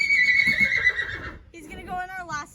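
A horse whinnies loudly during trailer loading, a long wavering neigh followed by a second rising whinny, close by, with a few low bumps and clatter underneath.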